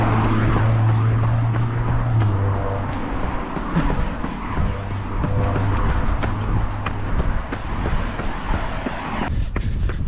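Car driving past a runner on an open road in a headwind, a steady rumbling pass with a brief tyre-scrub edge early on, close and loud over gusty wind.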